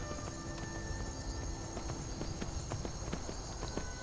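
Horse hooves clip-clopping steadily in a Skyrim game world, a regular rhythmic run of hoofbeats at moderate distance over a faint ambient hum, with no talking.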